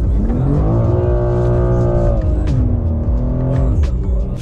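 A new BMW M2 accelerating hard, its engine note loud and close with rising harmonics that climb steadily, then a brief dip at a gear change before pulling again.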